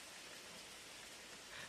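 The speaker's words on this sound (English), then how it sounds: "The rain continues without asking anything from you." Steady rain falls outdoors in an even, soft hiss with no pauses, quiet and alone, with no voices or thunder.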